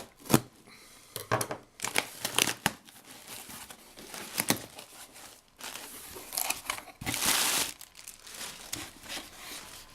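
A plastic-sealed Corsair memory package is unwrapped, with close, loud crinkling, tearing and rustling that comes in irregular bursts over about ten seconds.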